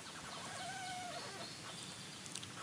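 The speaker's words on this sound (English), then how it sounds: "The eucalyptus tree is singing." A eucalyptus tree in a forest creaks with a thin, drawn-out squeaking tone that rises and falls, quiet and faint against soft rustling outdoor ambience.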